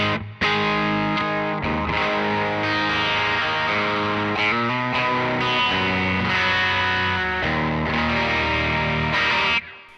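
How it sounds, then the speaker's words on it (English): An electric guitar plays chords and notes through a crunchy overdrive pedal into a Line 6 DT25 112 tube combo amp, thick and sustained, loud and steady with brief gaps between phrases. "Second patch is clean with the overdrive pedal."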